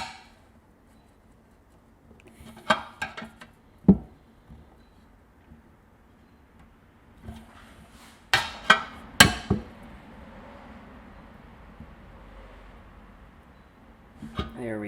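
Metal wrench on a 19 mm exhaust nut on a Polaris RZR, making scattered sharp clicks and clanks in two bursts, close up and otherwise quiet.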